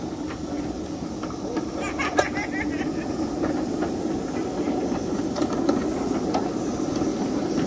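A ride aboard a miniature live steam train at the Ridge Live Steamers track, with a steady rumbling roll of wheels and faint hissing and clicks throughout, and people talking quietly over it.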